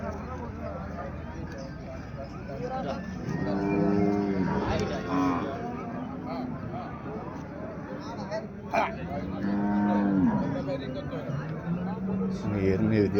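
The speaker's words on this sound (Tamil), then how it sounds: "பாருங்கள், நிறைய எருமை வாங்கி கட்டியிருக்காங்க." Water buffaloes tethered at Karungalpalayam livestock market in Erode let out two or three drawn-out, low moos, close by, over steady crowd hubbub.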